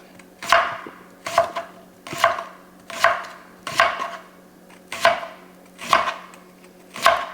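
A knife chops through jarred pickles on a board, eight crisp, evenly spaced strokes about a second apart, close and clear over a faint steady background hum.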